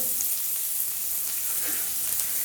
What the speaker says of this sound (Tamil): இது எல்லாத்தையும் போட்டு சும்மா லைட்டாக வதக்கிட்டு நம்ம கட் பண்ணி வச்சுருக்க வெங்காயத்தை இதுக்குள்ளே போடுறேன்